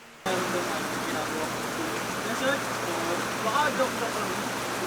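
Steady rain hisses throughout in Tagaytay, a dense wash of falling water with faint voices murmuring underneath.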